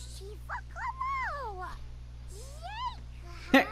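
A cat in The Sims 4 video game lets out several short, rising and falling meows, soft and close over a low steady hum, ending with a brief sharp click.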